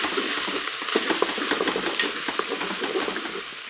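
Chorizo and cauliflower sauté in a Cookeo multicooker with a spoonful of tomato paste, giving a steady close sizzle and frying crackle with occasional stirring scrapes throughout.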